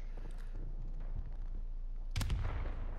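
Grenade explosions and gunfire in the video game Modern Warfare Remastered, scattered shots first and then a sharp, loud blast with rumbling debris near the end.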